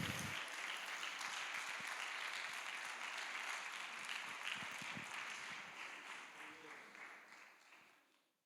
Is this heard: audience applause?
yes